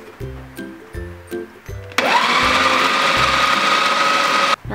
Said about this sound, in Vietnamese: Mình xay chung với thịt luôn.